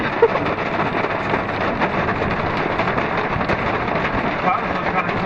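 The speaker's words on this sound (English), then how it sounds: "That's a lot of rain." Heavy rain pours down on a farm in a dense, steady roar with a little wind buffeting the microphone, constant and close for the full stretch with no voices over it.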